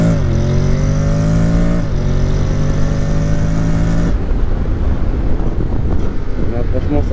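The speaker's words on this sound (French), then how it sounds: "Hop, on va faire une petite accélération." Honda X-ADV 2022 scooter with a Barode Raptor exhaust revs up loud and close, its pitch climbing through two pulls before turning into a rough, roaring rush as it accelerates away, with wind noise.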